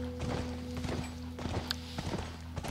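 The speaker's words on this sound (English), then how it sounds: "So we're off chasing Ellie, who's taking a horse" Horse hooves clip-clop in The Last of Us game on PlayStation 3, a steady walking rhythm of soft thuds under a constant low droning game soundtrack.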